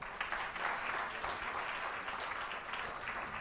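An audience at an ISKCON Bangalore book marathon closing ceremony applauds the devotees, a steady, even wash of clapping from many hands sustained for several seconds at moderate distance.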